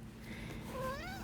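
A kitten meows twice in quick succession, the second call rising and falling in pitch, fairly close against a steady low indoor hum.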